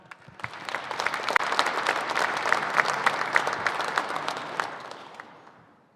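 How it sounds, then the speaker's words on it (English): A banquet crowd for a dirt late model racing series applauds the championship crew, steady clapping swelling in, holding strong for several seconds and then fading near the end. "Give a big round of applause to Ricky Arnold and Kitty Payton."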